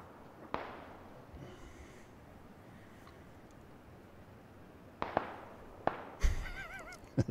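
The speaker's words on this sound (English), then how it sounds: "Bullet sounds everywhere around you." Sparse gunshots in PLAYERUNKNOWN'S BATTLEGROUNDS, a few distant sharp cracks spaced apart over a low steady ambient hiss, with a slightly louder cluster of reports near the end.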